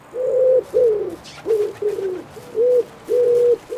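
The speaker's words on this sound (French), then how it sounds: "on peut entendre d'agréables chants d'oiseaux au petit matin. Oui, tu sais, ce genre de son." Morning birds in the medieval village game Medieval Dynasty: a dove or pigeon coos in repeated steady tonal notes, close and clear, with faint chirps from other birds behind it.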